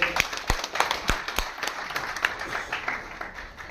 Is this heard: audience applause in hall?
yes